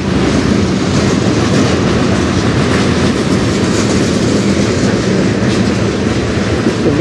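A CN M394 manifest freight train led by locomotives CN 3899 and CN 2843 passes close by on the Strathroy Subdivision. The rumble is loud and continuous, with a steady clickety-clack of wheels over the rails.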